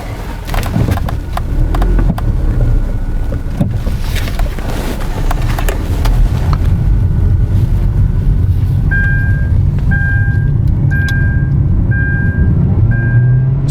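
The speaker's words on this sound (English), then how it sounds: "we need to drive the car so we can see" A 2016 Kia Rio 1.6L with a low-power fault drives under acceleration, its loud engine drone rising steadily, with clunks early on and a series of short repeating beeps toward the end.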